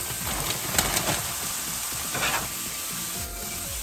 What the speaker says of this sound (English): Next, we're gonna add our green beans.